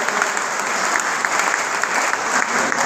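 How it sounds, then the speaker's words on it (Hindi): Dense, steady applause from a crowd welcoming a speaker at a BJP political gathering, continuous and fairly loud for the full few seconds with no voices over it. "जोरदार तालियों के साथ स्वागत का अभिनंदन करेंगे"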